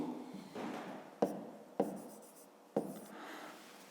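Pen or pencil writing out a math equation for a fifth-grade arithmetic exercise: soft, continuous scratching strokes close by, broken by three sharp taps as marks are struck, with no talking.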